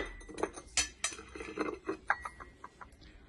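Pieces of a 32-piece china tableware set for six, including cups and saucers, clink against each other in a quick, irregular series of bright, close knocks with no talking.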